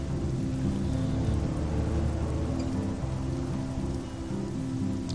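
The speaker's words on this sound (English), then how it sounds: "It's raining, huh?" Steady rain falls in the video game Life is Strange, a dense continuous hiss of drops with a low rumbling undertone, constant and fairly loud with no talk over it.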